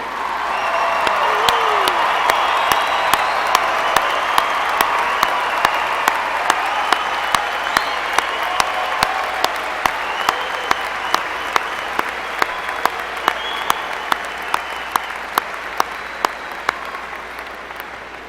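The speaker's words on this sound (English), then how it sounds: "let us give you a huge round of applause and Happy Mother's Day" A large graduation crowd applauds mothers standing at a spring commencement, with sustained dense clapping and scattered whoops and cheers, loud and steady throughout before easing slightly near the end.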